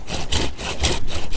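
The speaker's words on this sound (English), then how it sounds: "it's a good idea to slow down on the sawing just as it cuts through" A hand pruning saw rasps through a tree limb in quick, even back-and-forth strokes, about three close, loud pulls of gritty cutting with no talking.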